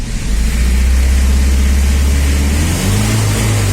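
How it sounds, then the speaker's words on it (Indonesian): A diesel car engine idles and revs loudly and close up with a deep throbbing exhaust note, the car having a fault that makes it sluggish and emit abnormal smoke, running continuously without talk. "Nih knalpotnya kita simak dari depan sana guys."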